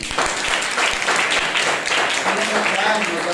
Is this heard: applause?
yes